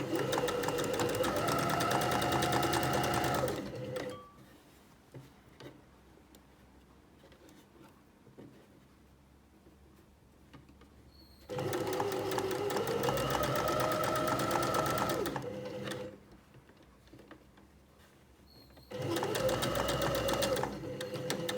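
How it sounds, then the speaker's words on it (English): A sewing machine stitches a tote bag seam with a 1 cm allowance, backstitching at each end. It makes three loud, close runs of rapid mechanical whirring, separated by quiet pauses. "sewing across right the way down here, using a 1 centimetre seam allowance, back stitching at each end"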